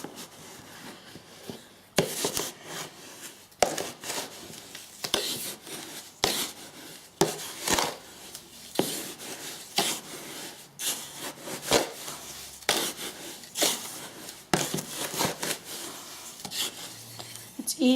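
Powdered homemade washing powder ingredients are pre-mixed by hand in a container, giving repeated dry rubbing and scraping strokes in an irregular rhythm, close and moderately loud, with no talking.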